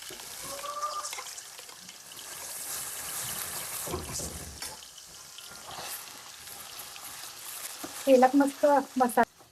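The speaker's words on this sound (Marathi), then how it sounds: "तेलात मस्तपैकी मसाला भाजून घ्या." Ground spice paste for misal fries in hot oil, making a soft continuous sizzle with occasional stirring scrapes; someone talks faintly over it, and louder clattering bursts come near the end.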